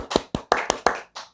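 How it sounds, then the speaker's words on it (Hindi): Six sharp hand claps close by in a home, in a quick uneven rhythm, the last one softer. "ताली।"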